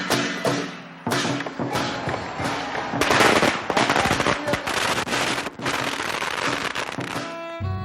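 Strings of firecrackers burst at Chinese New Year celebrations, loud rapid crackling pops in dense irregular volleys with short gaps, close by and unbroken by voices.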